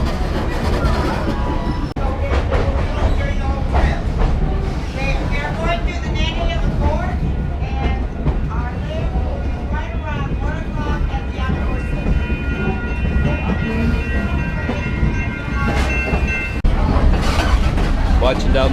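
Smoky Mountain Railroad train rolling steadily along the tracks, a continuous close rumble with squealing, creaking metallic tones from cars that need grease, while people talk throughout.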